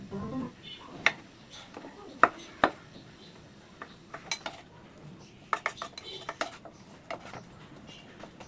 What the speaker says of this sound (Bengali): মরিচ আর ধনেপাতাটাকে খুবই ফাইনলি চপ করে নিচ্ছি।